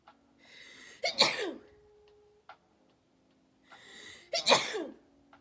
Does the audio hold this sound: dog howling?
no